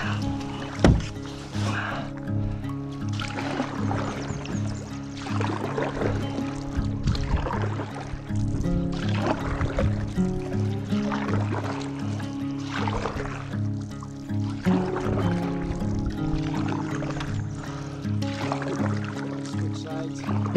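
A canoe dragged and pushed through shallow lake water, with steady sloshing, trickling and hull scraping sounds close by, continuous over a long stretch with occasional louder splashes.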